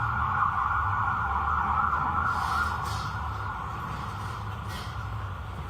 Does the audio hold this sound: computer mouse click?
no